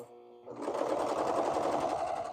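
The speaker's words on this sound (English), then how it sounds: "it will cut off the edge of the fabric as it sews" A serger-style sewing machine starts up and runs steadily, stitching and trimming the edge of leggings fabric with a fast, even mechanical whir, loud and close.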